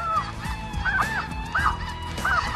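Snow geese and Canada geese honking repeatedly at a Manitoba hunting lodge, a dense flock of calls with several louder nearby honks standing out over a constant background chorus.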